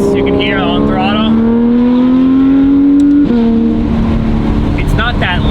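A Porsche 992 GT3 RS with RSR exhaust and race headers pulls hard on throttle, its loud, high-revving flat-six rising steadily in pitch before a brief lift and another surge, heard from inside with a voice talking over it.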